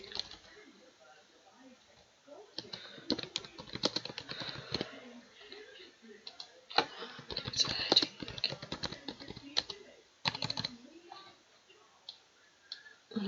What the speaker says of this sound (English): when it wants to catch up with my typing